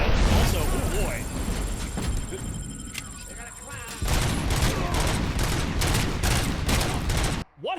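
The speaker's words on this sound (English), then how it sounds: "Why is my gun burst fire again?" Burst-fire gunshots from a gun in the shooter game Robocop: Rogue City ring out loud and close. Dense, chattering volleys run under a continuous wash of game noise, and after a brief lull the shots turn into regular, rapid clusters.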